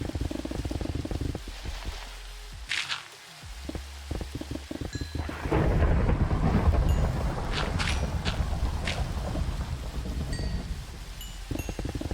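Thunder rumbles through a steady thunderstorm downpour in the video game Cloudvale. Heavy rain hisses continuously while a deep roll of thunder swells midway and a few sharper cracks and knocks stand out.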